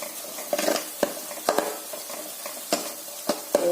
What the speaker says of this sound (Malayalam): ഉള്ളി വറുക്കാൻ തുടങ്ങിയിട്ട് 20 മിനിറ്റായി.